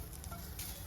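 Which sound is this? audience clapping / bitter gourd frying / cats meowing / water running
bitter gourd frying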